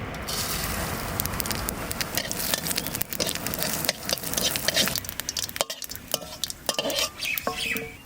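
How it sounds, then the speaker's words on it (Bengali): Food frying in oil in a pan is stirred gently, part of a Bengali home-cooked dish of snakehead fish with bitter gourd and potato; a close, continuous sizzle carries scraping and light clinks of the utensil against the pan. "হালকা একটু নেড়ে দিলাম।"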